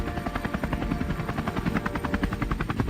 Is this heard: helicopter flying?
yes